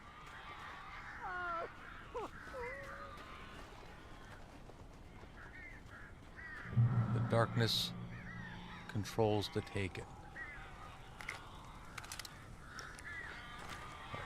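Crows in the Alan Wake video game caw and screech in bursts, loudest in a dense flurry in the middle, over music and game sounds, with someone speaking now and then.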